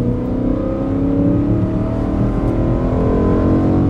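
A sports car engine roars loudly and steadily, its pitch climbing as it accelerates hard out of a corner on a racetrack, close and continuous.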